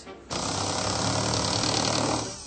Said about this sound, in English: I'm going to sort of try and drill through each side